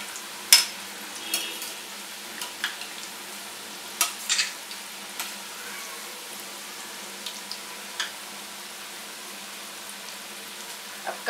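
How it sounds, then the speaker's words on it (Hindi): Onion pakoras frying in hot oil over a low flame, roadside style, give a soft, steady sizzle with occasional sharp clinks and scrapes as pieces are turned. "अब कम गैस पे हम इसे तलेंगे।"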